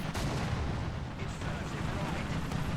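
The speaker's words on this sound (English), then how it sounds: "Terribly aimed shot." A tank cannon fires in the War Thunder video game, a premium M10 Achilles engaging a T-34, heard as a dense rumbling blast with crackling noise that fills the short clip at moderate level.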